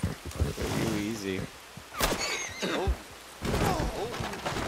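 A horse in the video game Red Dead Redemption neighs and whinnies among hoof clops and thunks, fairly close, with bursts of commotion and a person talking between the sounds.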